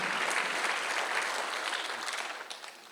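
A church congregation at a Sunday worship service applauds, a soft but continuous spread of many hands clapping together, fading slightly toward the end.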